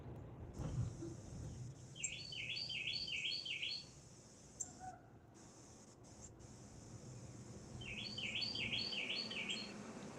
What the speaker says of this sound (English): I like hearing your birds, man.